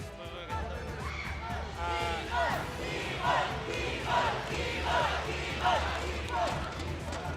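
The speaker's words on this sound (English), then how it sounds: "The crowd is cheering for Keyboy like he's going to a grand finals matchup." A large esports crowd at the M5 World Championship knockout stage roars and cheers continuously for a player, with rhythmic surges of chanting voices rising and falling over a steady low rumble.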